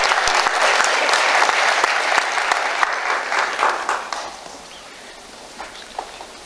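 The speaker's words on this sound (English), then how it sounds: "Another round of applause for Lois, please" Audience applause after a talk fills the room loudly with dense clapping, then thins out and fades to a few scattered claps near the end.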